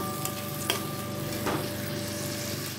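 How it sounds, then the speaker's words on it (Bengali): Ground spice paste sautéing in a pan while cooking a rohu fish curry, with water from the ground paste added; a steady close sizzle with a few soft stirring scrapes and no voices. "এটা আমি খানিকক্ষণ আরেকটু কষিয়ে নেব।"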